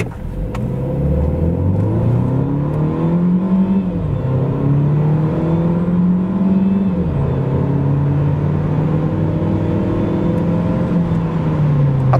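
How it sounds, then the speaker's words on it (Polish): A 2022 Dacia Duster 1.3 TCe 150 hp engine accelerates steadily, its pitch rising in smooth steps with brief dips as the EDC automatic gearbox shifts up, loud and continuous with no talk. "połączony ze skrzynią EDC silnik zapewnia takie przyspieszenie od 0 do"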